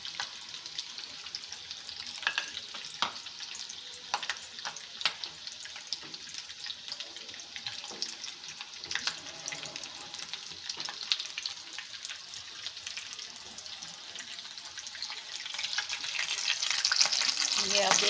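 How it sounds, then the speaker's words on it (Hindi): Chicken drumsticks and potatoes light-frying in hot oil, a steady dense sizzle with crackling pops throughout, swelling louder toward the end, with no talk. "इनको हमने लाइट फ्राई करना है, डीप फ्राई नहीं करना, इसलिए मैंने नॉर्मल ऑयल डाला है और उसको गर्म कर लिया है।"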